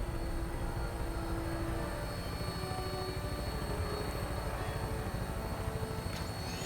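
A game aircraft taking off, a steady loud engine drone with a pulsing rotor-like flutter that holds level throughout, with a faint high sweep near the end.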